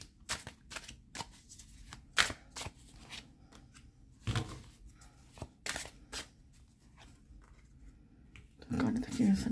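Tarot cards shuffled by hand in a series of crisp riffling bursts and soft slides, close and fairly quiet, with pauses between the shuffles.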